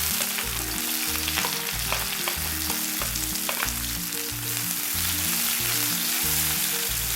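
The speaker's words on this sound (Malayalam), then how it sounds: "അതിലേക്ക് നമ്മൾ എടുത്തു വച്ചിരിക്കുന്ന സവാള," Sliced onions fry in about three tablespoons of oil for a green peas curry, a steady, bright sizzle that continues throughout beneath a rhythmic background melody, with no talking.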